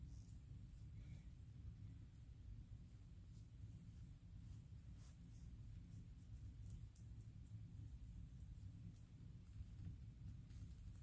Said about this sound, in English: We have a storm outside, so you might hear some thunder